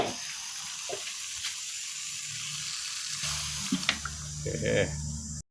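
Water pours into a pan of Thai green chicken curry cooking in oil, a running splash and hiss that settles into quieter sizzling and bubbling before building again and cutting off abruptly.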